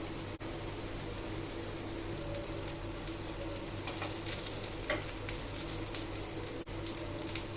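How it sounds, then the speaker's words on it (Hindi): Pumpkin (kohda) bachka fritters fry in hot oil with a steady, dense sizzle and crackle, spitting and popping irregularly throughout, close and continuous with no talk. "कोड़े का बचका भी अच्छे से फ्राई हो गया दोनों तरफ से"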